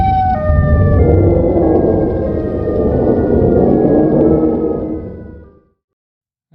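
A tornado siren from the Siren Head horror video game wails in a loud, sustained tone with a deep rumbling undertone, holding steady before cutting off abruptly near the end.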